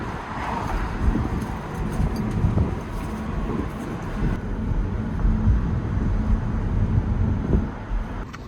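Steady low road rumble and wind noise from inside a Tesla car on the move, with no voices, holding an even level throughout.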